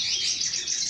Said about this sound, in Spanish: Aquí, los canarios, el cabecita negra